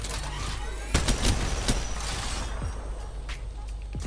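Rampart's Sheila minigun in Apex Legends firing continuously as a dense, steady rattle with a few sharper impacts, loud and close, with no talking.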